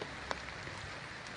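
Heavy rain falling over Sinjai Regency, a faint, even wash of patter with a few brief sharper drops, steady through the short stretch.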